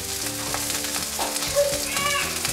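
Asparagus frying on a hot griddle alongside salmon gives a steady, close sizzle, with a few soft clinks and stirring touches over a background hum.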